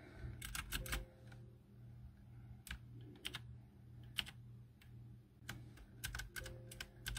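Crisp clicks from a Camiysn typewriter-style mechanical gaming keyboard come in quick bursts of keystrokes with short pauses between them, close and fairly quiet against a low steady hum.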